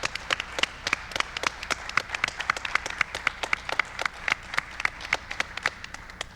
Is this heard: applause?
yes